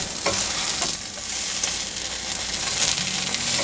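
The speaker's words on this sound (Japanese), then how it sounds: "油を引いたフライパンにナスの開いた面を下に置いていきます。" Eggplant halves sizzle cut side down in an oiled frying pan, a steady close hiss and crackle with no talk.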